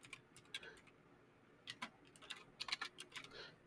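Quiet clicks of a computer keyboard as someone types into an Excel spreadsheet, irregular bursts of keystrokes with a short pause in the middle.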